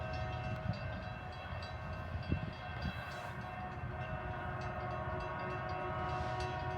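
A CSX work train, a track regulator, creeps slowly closer with a steady low rumbling engine drone and a sustained tonal hum. Occasional soft clanks rise out of a continuous, fairly distant mechanical roar.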